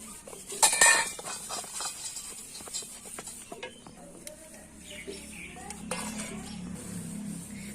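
Metal puja utensils are scrubbed by hand, with a sharp clatter of clinking metal near the start, then lighter scraping and occasional clinks, and faint background sounds around it.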